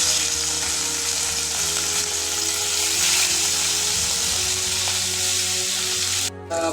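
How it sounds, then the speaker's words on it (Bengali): Garlic, ginger and green chilli paste fries in hot oil, giving a loud, dense, continuous sizzle up close with steady crackling and faint stirring, alone with no voices. "এবার আমি যে মশলাগুলো দেবো, এখানে হচ্ছে রসুন, আদা আর কাঁচা লঙ্কা পেস্ট"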